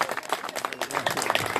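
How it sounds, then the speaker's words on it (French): Applause from a gathered crowd at an outdoor picnic event, uneven claps overlapping in a brisk, moderately loud burst with no talking on top. "Et nous applaudissons l'union fort,"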